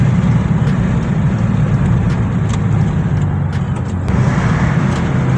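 A 2015 Subaru WRX accelerating in fourth gear, a steady loud low engine drone with road rumble heard from inside the car, with a few light rattles and clicks over it.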